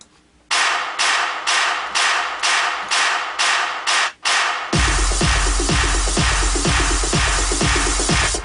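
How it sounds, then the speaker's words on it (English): Steady repeated claps and snare hits building in a rhythmic pattern, then a denser, louder section with bass-heavy beats joining in. "I add some percussion and claps and snares"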